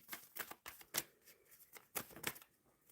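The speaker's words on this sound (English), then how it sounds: "So I'm shuffling for the first oracle deck" Riffle shuffling of an oracle card deck, with several quick crisp bursts of flapping cards separated by short pauses, close and fairly soft.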